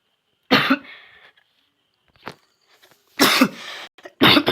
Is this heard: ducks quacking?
no